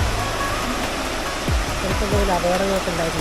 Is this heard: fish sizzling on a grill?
no